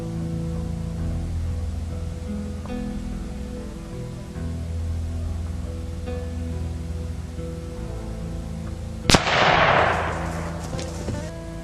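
A single loud gunshot cracks out during a deer hunt, a sharp broadband blast followed by a short decaying tail, standing out against a steady background of low hum and faint ambient noise.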